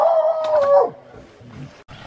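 A dog howls close by, a sustained wavering tone that slides downward and fades out, followed by softer, quieter yips and murmurs in the background.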